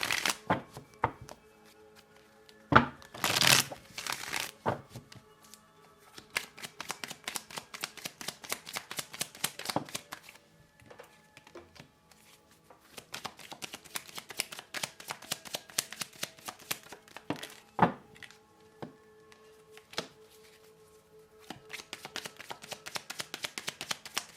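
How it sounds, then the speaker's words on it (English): A deck of tarot cards is shuffled and pulled in repeated bursts of riffling and flicking, with sharp slaps as cards are set down. The sounds are close and fairly quiet, separated by short pauses. "Now, let's pull out some more cards."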